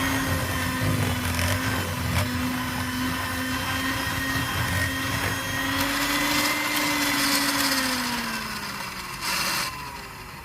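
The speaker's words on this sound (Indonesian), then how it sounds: "Kocok dengan kecepatan sedang sampai tercampur rata." An electric mixer whirs at medium speed through margarine and powdered sugar for cookie dough, a steady motor drone with a slight pitch drift and faint scraping, close and continuous without talk.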